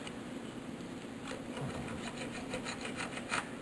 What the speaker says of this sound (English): And I commenced to saw through the brass.